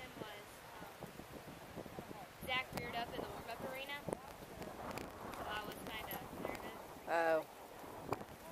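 Irregular hoof clops on the ground from a horse moving about, fairly faint, with whinny-like bursts and outdoor background noise.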